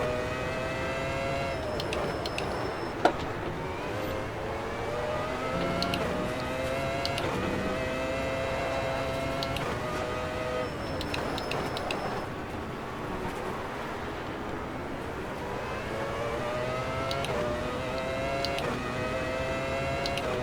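Simulated racing car engine from the video game Formula Fantasy '97, revving high and whining through repeated gear shifts as upward pitch sweeps rise and drop, steady and loud for the whole stretch.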